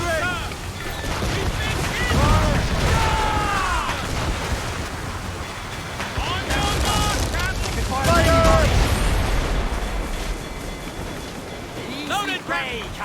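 Ship cannon fire at sea in Assassin's Creed Rogue, heavy booming blasts rolling over wind and surf, with shouted voices talking throughout.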